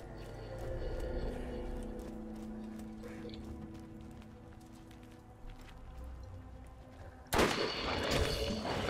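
Sniper rifle fire in the Borderlands video game: a quiet stretch of game ambience with faint background sounds, then a sudden loud sharp shot near the end followed by a noisy tail.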